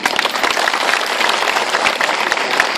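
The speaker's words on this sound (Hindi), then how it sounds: "आप सब लोग से आग्रह है कि विकास जी के लिए जोरदार ताली बजाइए" Loud, dense applause from a village gathering in Karamha panchayat, many hands clapping at once and filling the whole stretch without pause or voices.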